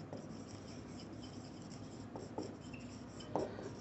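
A pen scratches across paper during a handwritten thermodynamics lesson, a faint, steady scribble close to the microphone with a few small taps and strokes, and no voices.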